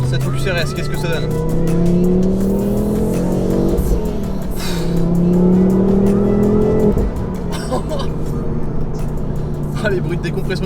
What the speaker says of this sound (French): Les bruits de décompression du turbo.